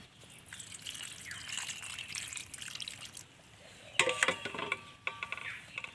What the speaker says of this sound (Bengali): এবার আমি সেদ্ধ করা আলু আর সেদ্ধ করা কলাতে জল দিয়ে দিচ্ছি ঠান্ডা হওয়ার জন্য।